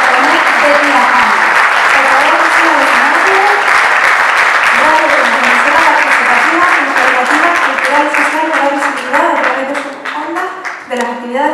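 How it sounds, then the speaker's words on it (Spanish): Loud, close audience applause at an inclusion awards gala, steady dense clapping that thins and becomes more uneven toward the end, with a voice speaking over it. "Un aplauso para Cristo Santiago de Radio Comuna Misión Municipal de Tlaxcala de Tlaxcala."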